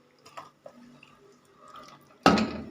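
Tomatoes, onion, pepper and spleen dropped into boiling water for soup, a few soft drips and wet clinks followed by a sudden loud splash near the end, with no talking.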